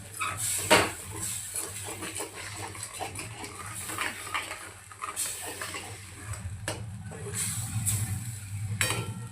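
A spoon scrapes and clinks against a pan while chana dal is sautéed in masala and lightly mashed, with irregular metallic taps and stirring over a low cooking hiss.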